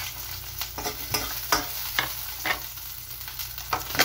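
Garlic and onion sautéing in a pan for pork binagoongan: a continuous sizzle broken by regular scraping stir strokes roughly every half second, close and fairly loud.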